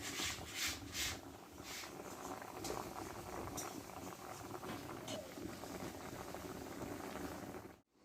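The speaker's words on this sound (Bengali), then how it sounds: "কিছুক্ষণ আমি একটু ফুটিয়ে নেবো এইভাবে" Semolina rasgulla balls boil in sugar syrup in a pot, a steady close bubbling and simmering hiss with a few faint clinks early on.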